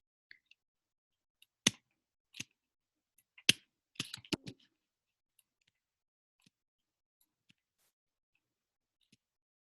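Sparse, dry clicks of a computer mouse and keys while brush lines are drawn in Photoshop, a few sharp single clicks and a quick cluster, close and quiet against silence.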